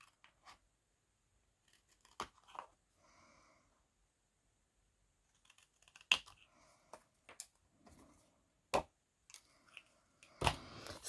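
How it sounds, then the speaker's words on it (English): Sparse, crisp snips of scissors cutting through card for a card-making craft, a few isolated cuts then a quicker run of sharp clicks, close by and quiet. "I'm going to use my scissors for doing this."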